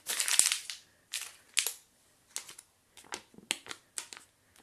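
A £5 banknote is crumpled up close in several short, crackly bursts separated by brief pauses.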